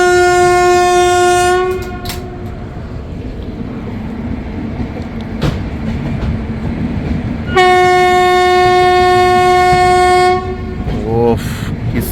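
A WP4 locomotive hauling an LHB-coach Puri–Shalimar superfast express, its loud multi-tone horn blaring twice in long blasts over the steady rumble and rattle of the passing train.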